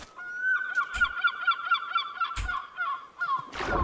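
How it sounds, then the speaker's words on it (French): Seagulls call over and over in a Minecraft coastal village, a steady run of high squawking cries that sound close and loud, with a few soft thumps in between. "On entend les mouettes, j'adore."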